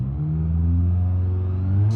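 A game car's engine revs up steadily in BeamNG.drive, a loud, continuous rising drone with no talk over it.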